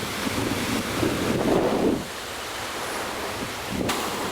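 An ocean wave rolls in and breaks on the beach during surf fishing, swelling into a loud surge that then falls back to a softer wash. Wind buffets the microphone throughout.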